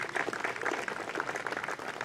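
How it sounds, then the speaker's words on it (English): A quiet round of applause at a Concours d'Elegance award ceremony honoring hand-built coaches, with a moderate crowd clapping steadily and softly, heard from a distance in a large space. "One more round of applause for all these hand-built coaches."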